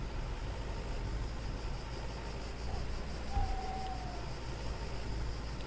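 A tractor with a trailer attached idles in the Farmer's Dynasty farming game, giving a steady low engine drone that holds throughout, with a short whistling tone partway through.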